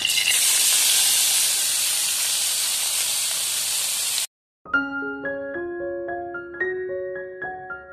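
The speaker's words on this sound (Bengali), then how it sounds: "চাল কুমড়ো কুচানো হয়ে গেছে, এখন কাঁচা লঙ্কা দিয়ে এটা ভেজে নেব" Chopped ash gourd and green chillies fry in a pan with a steady, loud broadband hiss for about four seconds, then the sound cuts off abruptly and plucked melodic music follows.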